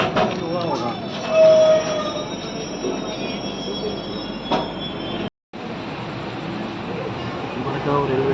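Matsyagandha Express passenger train (LTT to Udupi) rolling along the Konkan rails, with steady wheel rumble and a sharp, squealing wheel screech early on, carrying on after a brief dropout; voices murmur faintly inside the carriage.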